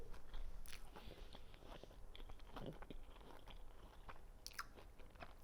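Crisp crunching bites and chewing of a fried Zivania apple pie roll-up, several close, wet crunches over about five seconds with no talking.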